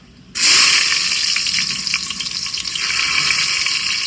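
Chopped onion drops into hot oil for a Malvani chicken tempering and bursts into a loud, steady hissing sizzle that settles into a constant crackle.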